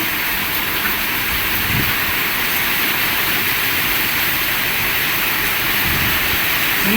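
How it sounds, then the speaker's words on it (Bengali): Heavy rain pours steadily in a storm, a dense, unbroken hiss filling the air as seen from a balcony, with no clear thunder standing out. "কীরকম বৃষ্টি নেমেছে ঝড় হচ্ছে মেঘ ডাকছে"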